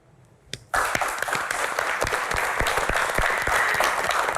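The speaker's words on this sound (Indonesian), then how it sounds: "Luar biasa sekali, tepuk tangan sekali lagi." An audience bursts into loud, sustained clapping at a Q&A event after a brief sharp sound, the applause filling the room steadily for several seconds.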